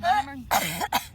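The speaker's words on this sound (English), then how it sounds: "Almost a cough." A short throat clearing that nearly becomes a cough, loud and close, with a voice speaking right after it.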